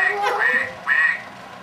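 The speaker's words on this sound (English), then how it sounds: "What does the duck say?" A duck's quack sounds twice in quick succession, close and clear, during a children's animal-sounds game.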